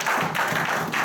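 A church congregation claps and applauds during a French-language service, a short burst of dense, close clapping with no voices over it.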